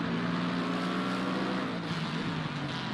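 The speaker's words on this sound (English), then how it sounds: "I think it's like a detuned engine plus it's a smaller exhaust" A subdued, detuned race car engine with a small exhaust in a racing video game at Imola drones at a steady, low-pitched hum, fairly quiet and muffled, with no voices.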